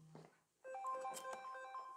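A phone's melodic electronic ringtone chimes faintly in a lecture room, a few bright repeating tones playing for over a second after a short muffled sound.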